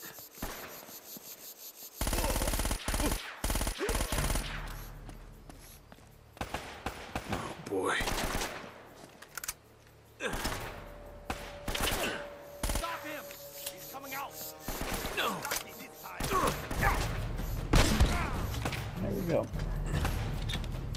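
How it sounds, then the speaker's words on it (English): Gunfire in the video game Uncharted: Drake's Fortune, with sharp shots and rapid bursts that come and go irregularly amid clanks and scuffs, loud in places and sparser in others, while voices talk at intervals. "Hear the gunfire, but I can't see him."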